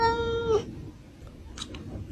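A small cat gives one drawn-out, close meow that cuts off abruptly, followed by faint scuffling and a couple of soft clicks in a quiet room.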